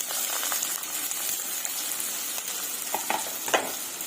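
Thin onion slices fry in hot oil in a pan for a chicken semi-gravy curry, making a steady, close sizzle broken by occasional light clinks and scrapes from stirring, with no voices.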